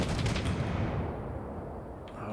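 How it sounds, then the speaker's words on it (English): Gunfire from the video game Six Days in Fallujah, a loud, dense burst of shots that fades into a lingering rumbling echo. "That's a pretty good shot"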